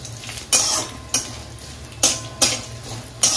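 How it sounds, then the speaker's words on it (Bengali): Grated coconut frying in a pan with a bay leaf, dried chillies and a little ghee, stirred in several sharp scraping strokes over a low steady sizzle, close and fairly loud. "এবার আমি নারকেল কুচানো দিয়ে দিচ্ছি"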